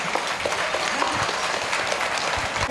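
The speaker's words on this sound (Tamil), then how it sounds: "நம் அனைவரும் ஒரு பாராட்டும் விதமாக கைத்தட்டும்படி கேட்டுக்கொள்கின்றேன்" A school cultural day audience breaks into dense, sustained applause, many hands clapping together in a loud, continuous wash with a faint crowd murmur.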